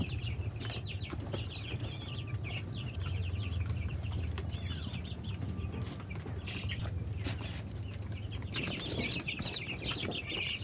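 Two-week-old chicks huddle together in their pen, peeping continuously with high, thin chirps over a steady background hum. A few louder chirps and rustles stand out at moments.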